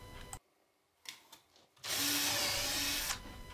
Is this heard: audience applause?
no